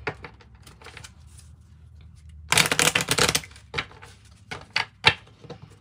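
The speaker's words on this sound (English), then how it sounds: "And the kipper deck. Let's give it a little shuffle." A kipper card deck is shuffled by hand, a quick burst of riffling snaps followed by a few separate taps and flicks of the cards, close and quiet otherwise.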